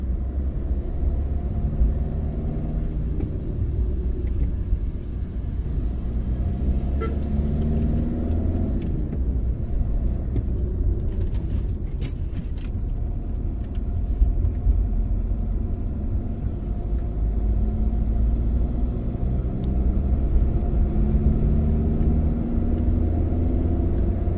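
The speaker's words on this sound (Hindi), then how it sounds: "देखते हैं टाटा जेस्ट के अंदर जो केबिन की नॉइज़ है लेवल है वो क्या है" Steady cabin noise inside a moving Tata Zest car on a road in Bihar, a constant low engine and road rumble with tyre hiss, loud and unbroken throughout.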